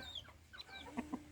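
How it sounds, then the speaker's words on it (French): A Dutch hen gives a few short, close clucks in a farmyard, with quieter throaty notes leading up to two sharper clucks at the end. "la poule hollandaise"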